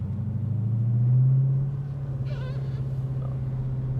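Supercharged 2019 Dodge Challenger SRT Hellcat Redeye Wide Body revving up in a short pull, a deep swelling engine drone that peaks then settles into a low rumble, with a brief higher whine midway.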